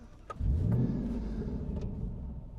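Jaguar XFR fitted with a Viezu induction kit starts up: a brief whirring crank, then the engine fires into a deep rising roar and settles to a steady low rumbling idle, heard from close range.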